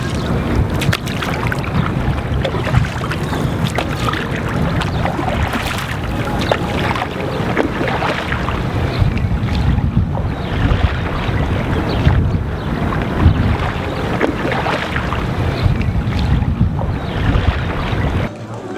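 A paddle boat moves on the water of a Montenegro fjord, with steady splashing and water rush under heavy wind buffeting on the microphone throughout, loud and continuous.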